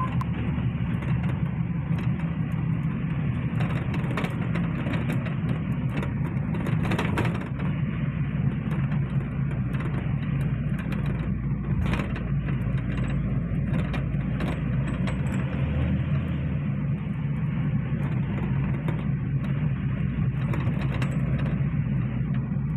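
A Trans Semarang feeder bus on corridor 2B between Terboyo and Majapahit rolls through city streets, its steady engine drone and low road rumble filling the cabin without pause and with no talking.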